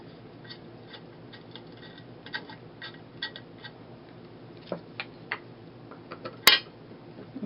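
Small metallic clicks and taps as a bolt is pushed through a float and fastened, sparse light ticks spaced irregularly, with a sharper clank near the end, close and quiet.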